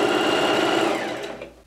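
A sewing machine stitches stretched elastic onto a light summer dress, giving a fast, steady, close mechanical whir that slows and fades as the stitching stops.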